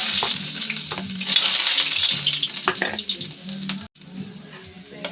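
Ginger frying in hot cooking oil in a small home kitchen, a steady loud sizzle with stirring scrapes, briefly cutting out near the end before resuming.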